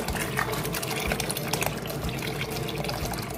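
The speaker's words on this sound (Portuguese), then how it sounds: "Aqui eu vou estar colocando agora o leite." Milk, a full litre, pours steadily into a pot while canjica is being made, a close continuous liquid splash and trickle.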